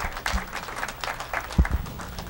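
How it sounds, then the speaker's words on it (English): Brief scattered applause from a small audience at a 9-ball pool match during a 1994 open tournament, a few loose claps and thumps rising and fading over a couple of seconds. "The audience applauding there."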